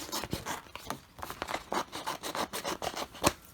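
Scissors cutting the bottom part off an Oracal 651 vinyl decal sheet, a close continuous scratchy snipping and rubbing with irregular crisp cuts, no talking.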